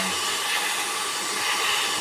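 An air blower cleaning a PC fan gives a steady, loud broadband hiss that stays even and unbroken throughout, with no talking.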